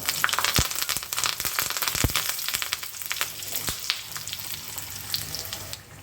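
Mustard seeds and curry leaves hit hot oil for a tempering, making a steady close sizzle sprinkled with sharp crackles and pops that continues throughout without talk.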